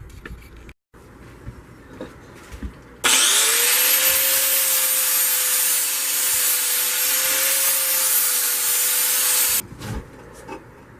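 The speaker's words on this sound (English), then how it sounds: "we're going to start sanding this down." Rough, steady sanding of wood, loud and close, a continuous gritty rasp lasting several seconds after some quieter handling noises.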